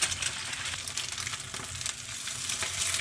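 Two eggs frying in a pan, a close, continuous crackling sizzle with rapid popping spits throughout and no voices.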